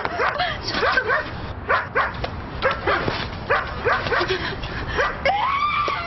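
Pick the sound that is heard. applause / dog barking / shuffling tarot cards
dog barking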